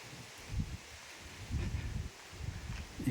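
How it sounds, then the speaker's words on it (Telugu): Strong wind gusts buffet the microphone at the limestone Billa Swargam caves near Betamcherla, Andhra Pradesh, giving low, uneven rumbling bursts over a steady airy hiss, with no one speaking. "గాలి మనుషులను తోసేస్తుంది"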